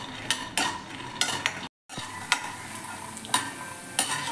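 Peanuts are stirred and fried in oil in a pan, with a steady sizzle broken by repeated close scraping strokes of a spoon against the metal, and a brief silent gap partway through.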